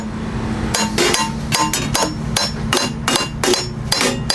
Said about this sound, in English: you're hammering blind because your anvil, you can't see your anvil